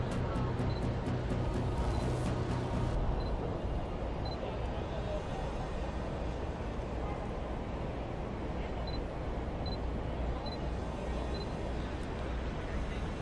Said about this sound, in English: I know that shutter sound is terrible,